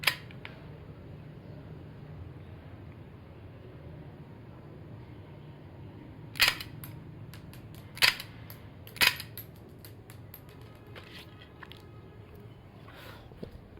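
A shell-ejecting toy pistol fires three sharp snapping clicks, spaced a second or two apart, standing out clearly over a quiet, humming room.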